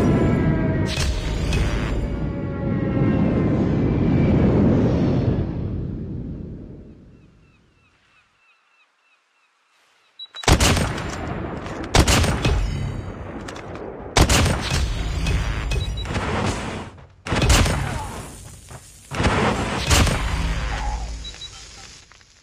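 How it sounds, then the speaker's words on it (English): Predator missile airstrike in Call of Duty: a long, loud rushing roar fades into silence, then a series of sharp, heavy blasts and gunfire bursts cracks out in uneven succession. "Predator missile inbound."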